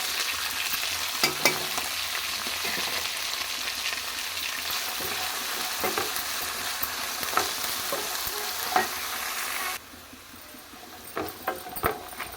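Green beans fry in a pan with crushed garlic and dried red chillies, giving a steady close sizzle broken by scraping stirs, then the sizzle drops lower near the end.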